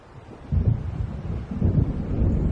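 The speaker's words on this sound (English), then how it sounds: "It seems there's a storm coming." Deep rolling thunder of a storm approaching over lake waters in the Alan Wake video game, two low rumbling swells about a second apart over a steady windy background, no talk.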